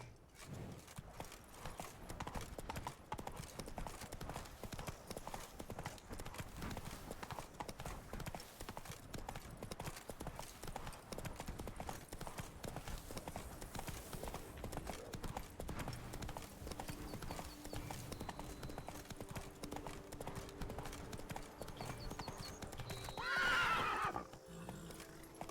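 Hooves of Roach, Geralt's horse in The Witcher 3: Blood and Wine, clip-clop steadily throughout, with a loud whinny rising near the end.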